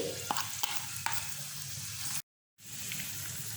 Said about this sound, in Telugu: ఇప్పుడు మనం ఆడిపెట్టుకున్న పచ్చడి అంతా కూడా ఇందులో వేసేసుకోవాలి.